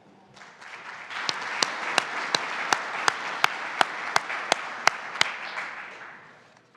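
An audience applauds steadily as two speakers, Cole and Lauren, are welcomed to present a case law update, the clapping swelling quickly, holding for several seconds, then tapering off, with several sharp louder claps standing out.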